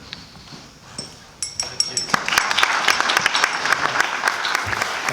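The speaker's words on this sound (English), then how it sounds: "round of applause before I even begin" An audience applauds to welcome Graeme Brooker from Middlesex University at a SISU 2015 lecture, the clapping starting sparse and quickly swelling into steady, dense applause that fills the room.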